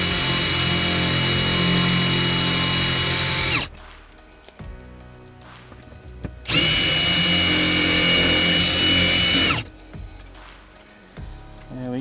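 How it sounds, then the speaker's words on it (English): A power drill spins a bit against a surface to make a screw indent while installing 12V accessories in a caravan boot, two loud sustained bursts of whirring separated by a quieter pause. "Now I'm just gonna use the end of the drill bit just to make an indent"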